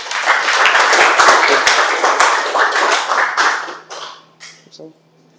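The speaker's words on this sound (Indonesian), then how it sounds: "Tepuk tangan dulu untuk Valermo." A classroom crowd bursts into loud, steady applause that fades out over a few seconds, with scattered voices mixed in.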